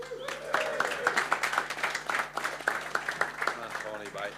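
An audience at a Cheltenham Festival preview night breaks into steady applause, a rapid patter of claps that lasts several seconds while a voice speaks over it.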